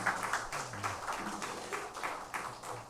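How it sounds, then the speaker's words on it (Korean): A church congregation claps for its choir after a Sunday worship hymn. The applause comes as a rhythmic series of fairly close claps, and a few low tones sound faintly underneath. "은혜로운 찬양해 주신 우리 성가대원들에게 다시 한번 감사의 박수하겠습니다"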